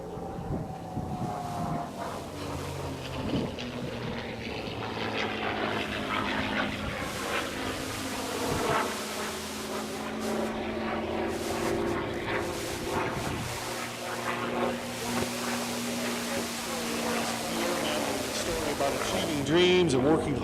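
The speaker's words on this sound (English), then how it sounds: "Sound of that Rolls-Royce Merlin engine." Rolls-Royce Merlin engine of a P-51 Mustang droning steadily with shifting tonal pitch, a prop aircraft passing with wind noise, partly under narration.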